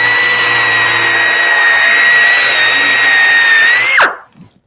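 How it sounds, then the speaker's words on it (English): Dynabrade power tool driving a flexible sanding star to scuff a raised panel recess in woodworking, a loud steady high-pitched whine that holds for about four seconds, then winds down sharply and stops. "the sanding star is flexible, so it fits right into the recess here"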